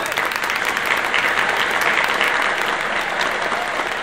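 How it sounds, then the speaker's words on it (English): Steady, loud audience applause fills the whole stretch, dense clapping from a large crowd with no pauses. "Let's hear it for Jennifer!"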